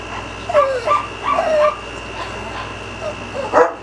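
A small dog whimpers and yips in short, high, whiny bursts, close and fairly loud, with a final sharper yelp after a brief pause.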